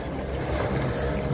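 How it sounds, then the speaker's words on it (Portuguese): A motorboat passes on the Rio Real at sunset near Mangue Seco, a steady low engine drone with water wash and wind filling the whole stretch, fairly close and continuous. "mais uma lancha passando"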